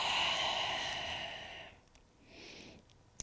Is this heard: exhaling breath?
yes